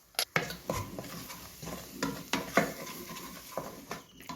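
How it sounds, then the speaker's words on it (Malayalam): A spoon stirs ground spices, roasted fenugreek powder and salt in a pan, scraping and clinking against the metal in irregular bursts with faint sizzling underneath, close and fairly quiet. "നന്നായിട്ട് ഇതൊന്ന് ഇളക്കി കൊടുക്കണം"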